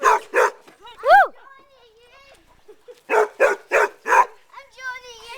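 A puppy at a playdate barks in protest during a game of catch, giving two sharp yaps, a rising whine, then a run of four quick close barks followed by softer whimpering yips.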